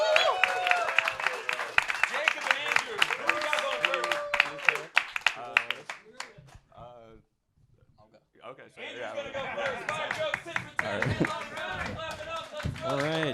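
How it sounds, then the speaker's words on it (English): A comedy club audience at a roast battle applauds and whoops, with dense clapping that briefly drops to near silence before swelling again; voices can be heard among the crowd. "Please clap it up for Jacob Williams, everybody."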